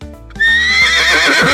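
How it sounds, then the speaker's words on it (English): A horse lets out a loud, close, shrill neigh that starts suddenly and whinnies on to the end, with a short stretch of music before it. "Horse."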